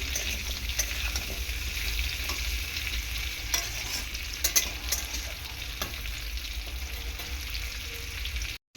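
Potato and papaya frying in oil while being stirred, a steady close sizzle with frequent light scrapes and taps of the spoon against the pan, continuing evenly throughout.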